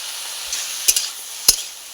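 Vegetables fry in a pan with salt and turmeric powder, giving a steady close sizzle broken by a few sharp clicks of a stirring utensil, with no talking.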